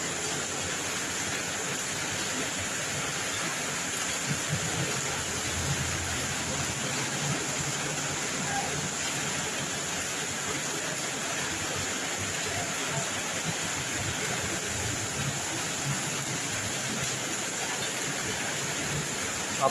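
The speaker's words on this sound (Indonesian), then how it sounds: "apabila hujan ini akan terus berlangsung hingga esok pagi" Heavy rain pours down steadily in Jeneponto, a dense, even hiss that holds without a break from start to finish, with a faint voice barely present under it.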